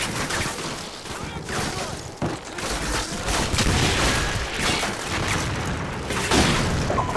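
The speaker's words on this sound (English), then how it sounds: "They're targeting our position with mortars." Mortar fire and explosions in the video game Call of Duty Modern Warfare: a dense, loud barrage of gunfire and heavy booms rolling on without a break.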